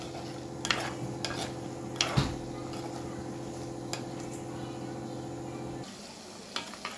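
Eggplant with turmeric stirred in a pan, light scraping and occasional clinks of a utensil over a low steady hum and faint sizzle, close but soft.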